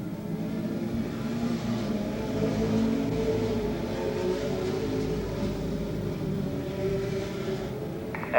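Race cars circle Rockford Speedway during a 1981 NSTC Rockford Rules and super late model qualifier, their engines blending into a steady, droning roar that holds at an even level throughout with no speech.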